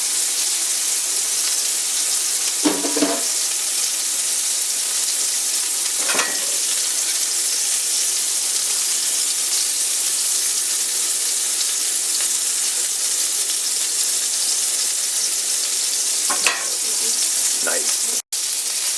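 A 93% ground beef burger patty fries in bacon grease in a cast iron pan, making a loud, continuous sizzle with a few brief scraping touches and no voices.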